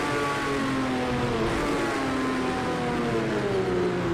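Race car in Project CARS 2 at Le Mans, braking hard from about 240 mph into the Mulsanne hairpin in a thunderstorm, engine revs stepping down through the gears from fifth to first, loud and continuous under steady rain-like noise.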